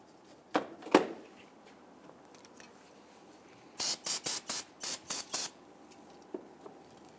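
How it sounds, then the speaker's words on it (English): Spray solvent hissing onto the master cylinder of a 2000-2006 Toyota Tundra, a rapid series of about six short close bursts, preceded by a couple of faint handling clicks in a quiet garage. "Use some spray solvent."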